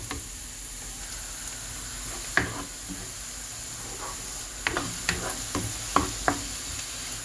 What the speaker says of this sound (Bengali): এখন ভালোভাবে একটু মিক্স করে নিয়ে নিই।